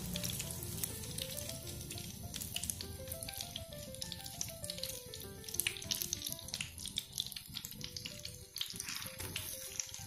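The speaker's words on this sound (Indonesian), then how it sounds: "Ini tempenya agak tebel guys, kemungkinan ini nanti agak lama ya aku menggorengnya" Thick slices of tempeh sizzle and crackle steadily in hot oil in a pan, a continuous frying hiss with light pops and no talking.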